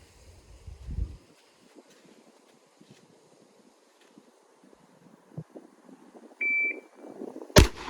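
A shot timer at an outdoor pistol range gives one short, sharp electronic beep to start a Glock 19 drill, amid quiet wind rustle, and a loud gunshot follows right after.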